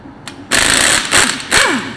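Power tool spinning bolts out of a New Holland 9482 tractor wheel hub, loud whirring bursts that start and stop in quick succession, with rising mechanical whines between pulls.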